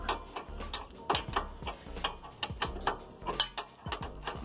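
A ratchet wrench works loose the rear wheel nut on a motorcycle, a steady series of sharp, close clicking ratchet strokes repeating roughly every quarter second.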